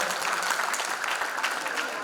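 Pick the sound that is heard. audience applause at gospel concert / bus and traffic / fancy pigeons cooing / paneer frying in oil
audience applause at gospel concert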